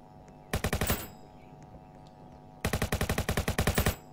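Automatic gunfire in the Roblox game Jailbreak, heard as two rapid bursts of evenly spaced shots, a short one and then a longer one, loud and sharp with quiet gaps between.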